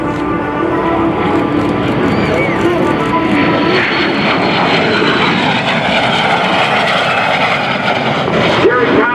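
A vintage de Havilland Vampire jet makes a low pass at the 2017 NAS Oceana airshow, giving a loud, steady engine roar that holds through the whole clip with a slight swell near the end, while a commentator talks over it.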